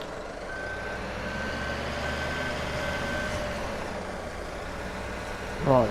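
A truck in Farming Simulator 17 idles with a steady low engine rumble while reversing beeps sound faintly beneath it, ending with a short louder clunk.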